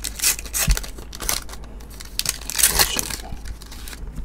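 A foil pack of Topps Argentina soccer trading cards is torn open by hand, making close, crinkly rips and crackles in several bursts, with no talking.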